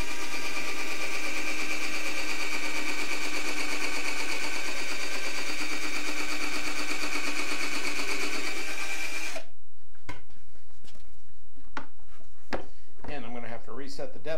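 A brad point bit drills into wood boards in a home workshop, a steady loud whirring drone for about nine seconds, then stops, followed by a few sharp clicks and knocks.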